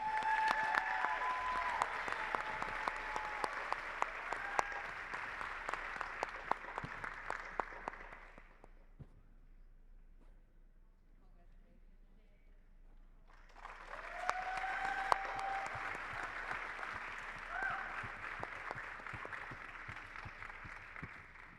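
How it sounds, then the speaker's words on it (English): Applause at a dental hygienist awards ceremony for a trophy winner: a long burst of clapping fades to near quiet, then a second round swells back up, moderately distant. "I would like to ask you a big applause for"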